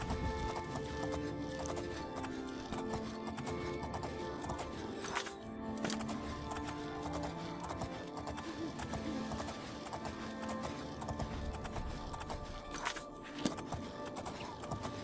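Galloping horse hooves in The Elder Scrolls IV: Oblivion pound in a steady, rapid rhythm for the whole stretch, close and continuous over background game music.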